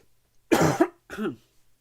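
Two quick, loud coughs close to the mic, the first harsher and longer, the second shorter, then quiet.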